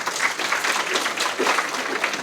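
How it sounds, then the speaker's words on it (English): A luncheon crowd at a chamber of commerce meeting gives a short round of applause, a dense, even patter of many hands clapping at moderate volume. "let's give them a round of applause real quick"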